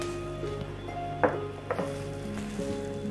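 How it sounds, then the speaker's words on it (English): Fennel and cumin seeds crackle in about three tablespoons of hot oil in a pan, a close, steady sizzle with small sharp pops and a light clink of a utensil. "Into a pan, I've heated some oil, about 3 tablespoons of oil. We'll add in some saunf or fennel seeds, some cumin seeds"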